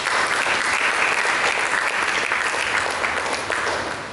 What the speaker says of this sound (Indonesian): Juga tepuk tangan.